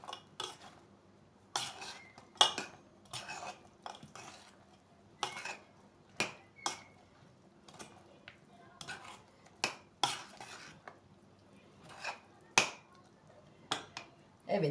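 Spoon scraping and knocking against a bowl while a pudding cake mixture is stirred, a run of sharp, irregular clinks spread over the whole stretch with quiet pauses between them.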